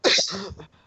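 A single abrupt, breathy sneeze, loud and close, trailing off quickly.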